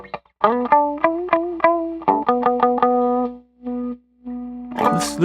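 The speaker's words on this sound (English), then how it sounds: "I usually combine the germanium with the distortion box to make it sound more like a fuzz." An electric guitar through germanium fuzz and distortion pedals plays a run of sharp picked notes with heavy fuzzy distortion, then sustains a few held tones before a noisy burst.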